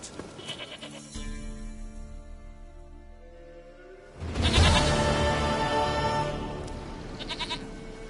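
A goat in The Witcher 3 gives a long, loud bleat that swells in the middle of the clip over a quieter ambient bed, with no talking.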